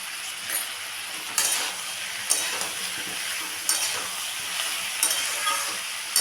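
Steamed cauliflower and two slit green chillies are stirred into a sizzling curry in a pan, with a steady fry hiss broken by a few sharp scraping strokes of the spatula at regular intervals.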